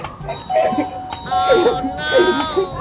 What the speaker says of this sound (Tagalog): Princess, tigilan mo yung doorbell namin, huwag kang pindot na pindot